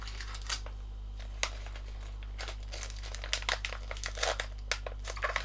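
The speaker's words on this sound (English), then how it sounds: "I'm going to fold that all the way down and tape it" Paper folded and taped around a beer bottle for a DIY advent calendar, a close stream of irregular crinkles and crisp rustles that grows busier toward the end, over a steady low hum with no talking.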